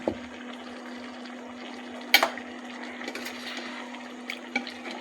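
Ginger garlic paste water is poured into prawn gravy frying in a pan for eral thokku, a close, steady sizzle and liquid hiss under a constant hum, with a few soft clinks and splashes.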